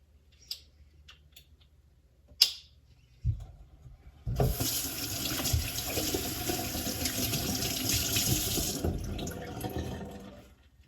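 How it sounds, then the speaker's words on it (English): A tap runs water over a kombucha bottling filter, a steady splashing rush lasting several seconds after a few scattered clinks and knocks, fairly close and with no talk. "Rinse your filter between each bottling."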